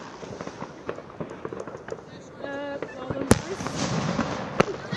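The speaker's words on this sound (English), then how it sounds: "We're all a bit timid here on the sideline from all these literal explosions of gunpowder behind us and around us on every single angle" Fireworks explode around a university football pitch during a match, with sharp loud bangs and crackles near and far while people talk nearby.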